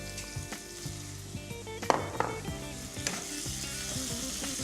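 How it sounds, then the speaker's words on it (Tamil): Onions and tomatoes sauté in a pan with a steady, close sizzle and occasional stirring scrapes, while a constant hum of background tones runs underneath. "ஸோ வெங்காயம் தக்காளியும் நல்லா வதங்கிடுச்சு"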